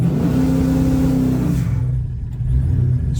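Supercharged 5.7 Hemi car held on its trans brake in first gear, its engine loud and steady with a low rumbling drone that drops in tone partway through, close up and alone.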